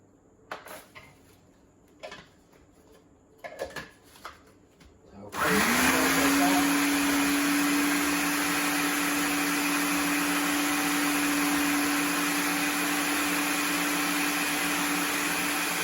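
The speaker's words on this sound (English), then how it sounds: "Got a bigger blender, you can do it all at once." Faint kitchen clatter gives way to a blender switching on and whirring loudly and steadily while preparing a chicken parma, a continuous high motor whine to the end.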